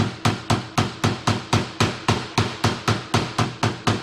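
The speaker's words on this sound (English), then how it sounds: "I can't believe he's beating on a bearing with a hammer." A hammer drives a bearing into place during a RZR gear reduction install, striking about sixteen evenly spaced, sharp metallic blows in a quick, regular rhythm close by.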